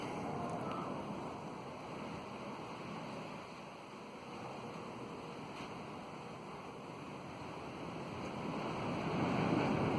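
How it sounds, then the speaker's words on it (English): Wind gusts across an open site where a steel barn for tractors is being built, giving a steady broadband rush that swells toward the end, with no voices. "There's a good gust right there."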